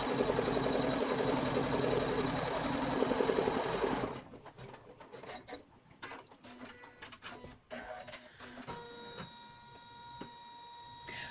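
An embroidery machine stitches a zipper bag held in the hoop, first with a loud, fast, continuous needle rattle, then after a few seconds it drops to scattered quieter clicks and mechanical ticks.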